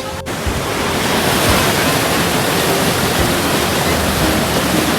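A vertical monsoon waterfall at Jata Shankar in the Girnar hills roars as a steady, loud, dense rush of falling water with no pauses.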